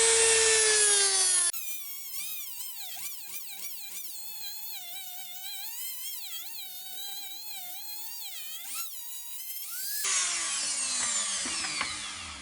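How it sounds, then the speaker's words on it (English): A Dremel-type rotary tool fitted with a small sanding disc rounds off a yew inlay for a sycamore bowl, giving a steady high whine with wavering pitch that runs for several seconds without any talk. "you just need a little sanding disc on your Dremel type tool"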